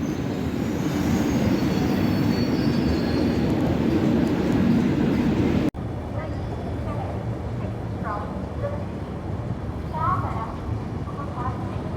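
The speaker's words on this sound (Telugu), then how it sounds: "మా ట్రైన్ అయితే రాజమండ్రి రైల్వే స్టేషన్ నుంచి స్టార్ట్ అయిపోయింది." The Swarnajayanti superfast express, train 12804, pulls out of Rajahmundry station. A steady, loud rumble of rolling coaches and wheels fills the whole span, briefly cut midway, with faint background voices.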